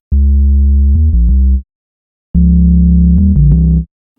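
Synth bass with its oscillator pitched up 16 semitones, a major third above: two loud sustained phrases of steady, buzzy tones with a few quick note changes, separated by a short gap.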